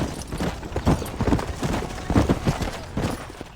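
Horse hooves clip-clop in a steady, close rhythm through a Western ranch scene in the Red Dead Redemption video game, the hoofbeats loud and alone with no talk.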